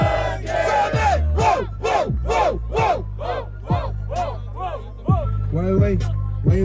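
A crowd at a free rap battle event in São Paulo's east side shouts in rhythmic, chanting bursts, about a dozen loud repeated calls in steady pulse, close and energetic, with voices rising and falling together.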